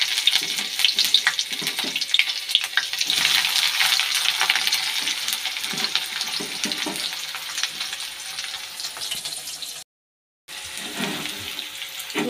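Onion added to hot oil with cut aubergine, green chilli and nigella seeds, giving a loud, continuous close sizzle that fades slightly, with a short break of silence near the end before the frying resumes.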